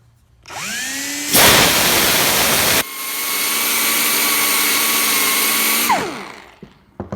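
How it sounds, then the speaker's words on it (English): A small hand grinder turns down a metal part at home, whining up to a steady high pitch, with a brief harsher burst of grinding contact in the middle, then running on loud and alone before spinning down. "I'm using this small grinder so I can be careful."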